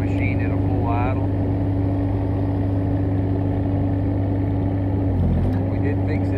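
A mini-loader engine idles below full idle while splitting wood, a steady low drone with a constant hum, briefly dipping near the end, with someone talking over it.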